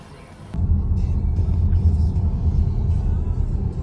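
A car drives along with a deep low engine rumble, steady and close after a brief quieter start, with no talking.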